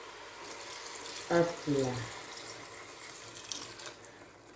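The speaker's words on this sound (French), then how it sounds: "je vais mettre maintenant l'eau. Je vais mettre l'eau." Water is poured into a cooking pot of vegetables, a couple of short splashing gushes close by with quiet background noise, and a voice speaks briefly.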